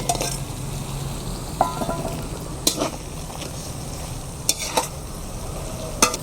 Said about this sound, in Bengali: এবার এর মধ্যে আমি মাছগুলো দিয়ে একটু কষিয়ে নেব